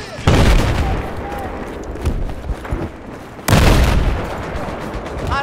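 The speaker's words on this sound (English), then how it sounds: "It's a tank!" Tank cannon fire and gunfire in Battlefield 4 on the Caspian Border map, with two loud booming blasts about three seconds apart amid constant battle noise and shouting voices.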